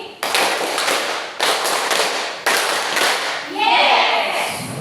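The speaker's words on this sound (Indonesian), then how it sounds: "Tepuk 5 kali." A class in a classroom lesson claps in unison, several loud sharp bursts of synchronized clapping separated by brief pauses, ending in a brighter flurry of noise.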